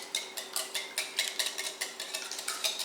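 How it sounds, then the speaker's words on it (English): Eggs being whisked for a quiche, breaking up the yolks: a fast, steady run of light metallic clicks and scrapes against the bowl, close and fairly quiet, with no talking. "I'm going to whisk this together."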